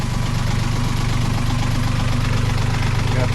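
Inboard boat engine idling steadily aboard a newly launched boat, a continuous low rumble with faint knocking vibration and the propeller shaft turning, close and loud with no talk.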